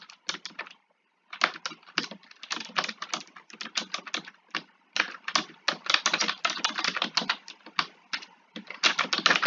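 Fast, uneven bursts of typing on a computer keyboard, crisp key clicks close to the microphone with brief pauses between runs and no voices.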